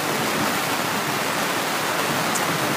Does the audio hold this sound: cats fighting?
no